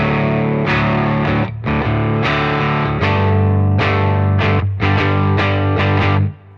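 Clean electric guitar run through a saturator plugin on a warmth preset, strumming a loud, close sequence of sustained chords with a few short breaks before fading out, with no voices.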